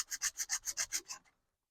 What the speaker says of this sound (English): then just give it a sanding until that bubble's gone